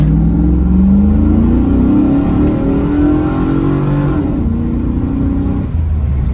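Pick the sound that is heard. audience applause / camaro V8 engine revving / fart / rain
camaro V8 engine revving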